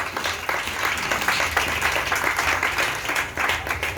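Church congregation applauding together, a steady mass of overlapping handclaps filling the room at close range, dense and continuous with no clear pauses.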